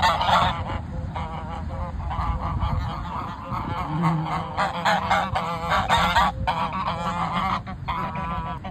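A loud flock of ducks and geese honking and quacking continuously, many birds close by calling over one another.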